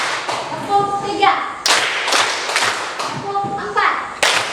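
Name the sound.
rhythmic clapping pattern, three claps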